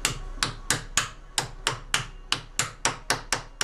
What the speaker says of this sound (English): we'll just tap it down into position